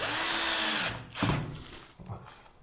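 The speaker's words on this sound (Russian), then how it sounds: "Я не докручиваю до конца. Просто в доску вкрутил его и все." A power drill whirs loudly as it drives a self-tapping screw into old plaster ceiling board, stopping short after under a second, followed by fainter scraping and handling sounds.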